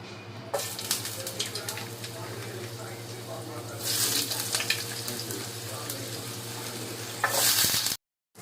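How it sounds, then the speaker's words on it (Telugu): Milky Mist paneer cubes fry and sizzle in a pan as they are stirred, a steady close sizzle with scraping bursts of tossing, ending abruptly. "సో ఇవి ఫ్రై చేసుకుంటున్నాను నేను"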